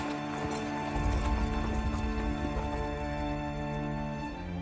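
Horses led by the bridle walk along, their hooves clip-clopping in an irregular, close cadence while gear drags behind them over a droning background.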